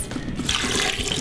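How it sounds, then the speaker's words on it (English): About four ounces of filtered water pours into a blender jar as a berry tropical smoothie is prepared, a steady splashing gush that runs loud and close throughout, with no talking. "I am gonna add about 4 ounces of filtered water."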